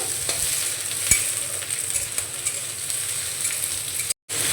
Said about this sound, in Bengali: কেটে রাখা টমেটো কুচিটা এখন দিয়ে দেব, ভালো করে মিশিয়ে নেব।